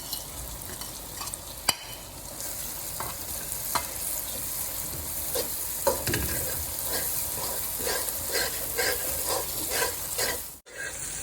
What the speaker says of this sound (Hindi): अब हमने इसमें लहसुन अदरक की पेस्ट डाल देनी है